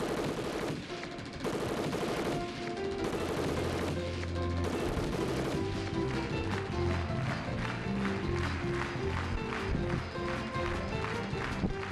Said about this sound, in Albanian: Aty shpresa mori armën dhe filloi të shtij drejt Gjermanit.